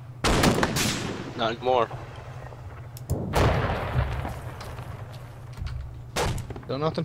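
Gunfire in the military video game Arma 3, sharp loud bursts and booming shots cutting in repeatedly over a steady low engine-like drone, with people talking over the action.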